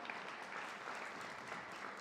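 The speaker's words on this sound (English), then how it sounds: "So we'll give them a round of applause, the volunteer students." A crowd applauds volunteer students at a Black History Month gala, continuous even clapping from many hands, quite faint and distant, holding steady for the whole stretch.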